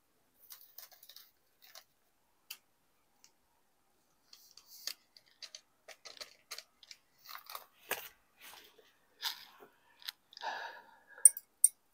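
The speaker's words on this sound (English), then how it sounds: "This is just a piece of parchment paper." A sheet of parchment paper is handled during DIY serum preparation, giving soft, scattered crinkles and light clicks that grow busier toward the end, faint and close with quiet gaps in between.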